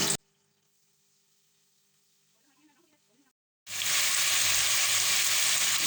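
Onions dropped into hot oil in a pot for mutton pulao burst into a loud, steady sizzle after a few seconds of near silence and faint stirring, the frying hiss filling the rest of the clip.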